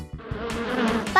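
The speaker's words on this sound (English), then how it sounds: "A bee makes a buzz sound." A bee buzzing: a continuous droning hum lasting about a second, close and fairly loud, with no voices.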